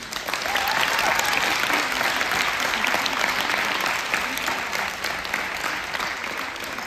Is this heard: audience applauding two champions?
yes